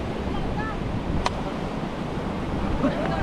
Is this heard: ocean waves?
yes